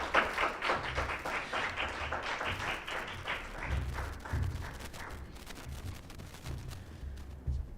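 An audience applauds after an academic presentation on race, religion and power in Jamaica, steady clapping holding at moderate loudness throughout with no voices over it.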